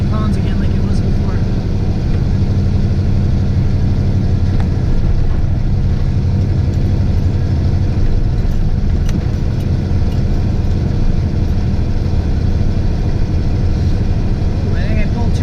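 Triple rear-mount turbo LS engine in a Ford Ranger drones loudly and steadily throughout, a dense continuous engine and turbo roar with a brief whoosh near the end and talk mixed in.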